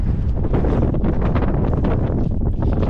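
Strong mountain wind buffets the microphone of a runner during the UTPMA 2024 ultra-trail race, a loud, continuous rumbling roar that never lets up, with no speech.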